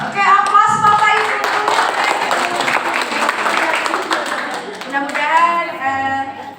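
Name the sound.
applause from the audience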